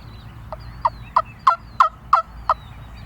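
Wild turkey gobbler gobbling in the spring woods, a run of about seven rapid, rattling notes in a quick rhythmic burst, fairly close and clear over quiet background.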